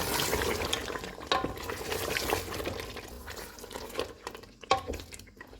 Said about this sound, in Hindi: इसमें गरम मसाला पाउडर डालेंगे, केवड़ा वाटर, धनिया डालेंगे, इनको मिक्स करेंगे।